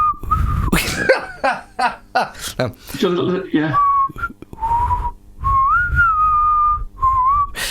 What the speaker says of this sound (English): I can whistle, yes, but I've got no tune to it at all.